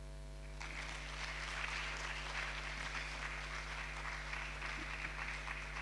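An audience at a book launch gives a sustained round of applause for a colonel, steady dense clapping heard over a constant low hum.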